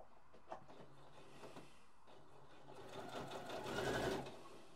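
Sewing machine stitching a linen yukata collar, faint at first and then building to a steadier whirring run, close but quiet.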